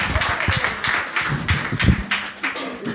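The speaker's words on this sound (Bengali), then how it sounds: "জোরে হাততালি দিন দুর্গাদার জন্য।" An audience clapping loudly for a person at a business gathering, a dense burst of many hands clapping together, close and sustained for a few seconds with little talk.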